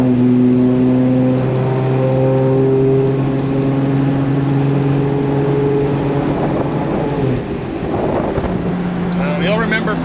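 A BMW E30 with a 2JZ engine swap and 8HP70 automatic transmission drives along, its engine note rising through steady revs before a shift drops the pitch, under wind noise and someone talking.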